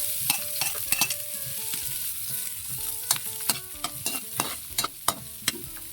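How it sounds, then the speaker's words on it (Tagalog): Onion, garlic, ginger and chili hiss and sizzle in a hot pan, with a utensil scraping and clacking against the metal in irregular close strokes. The sound carries no talk. "manggigisa na tayo. Lagyan na natin yung sibuyas, bawang, luya, saka sili"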